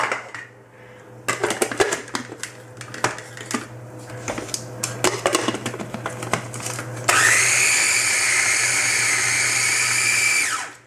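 Clatter and knocks of a lid and bowl being fitted come first, then a small food processor on its chop setting starts up, whirring loudly and steadily as it chops cabbage for homemade sauerkraut before cutting off.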